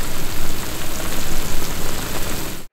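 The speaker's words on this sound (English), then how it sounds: "boil without a lid until all the liquid has reduced" Eggplant braising uncovered in Yu Xiang sauce and water, the liquid boiling down in a steady, dense bubbling hiss that runs loud and close throughout, then cuts off abruptly at the end.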